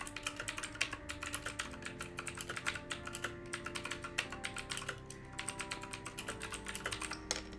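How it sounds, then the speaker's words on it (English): A very loud computer keyboard being typed on during an online competitive match, with dense, rapid clicking keystrokes running throughout at close range and no talking. "I know I have the loudest keyboard ever"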